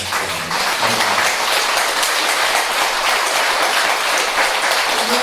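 Sustained audience applause at a Buddhist temple ceremony after a lecture, a dense steady wash of many hands clapping at constant loudness throughout.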